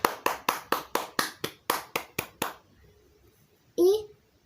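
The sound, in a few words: clapping hands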